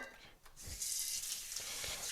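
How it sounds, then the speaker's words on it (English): Ginger beer is poured into a one-gallon vessel: a short burst of liquid splashing and trickling follows a brief pause, hissing steadily and close, with no talk. "there's a little bit left in here I'm going to pour in."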